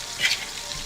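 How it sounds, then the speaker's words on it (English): Shrimp hit a hot frying pan for lo mein with a short burst of sizzle that swells briefly and then settles into a softer crackle, close and without talk. "right now I'm gonna add the shrimp"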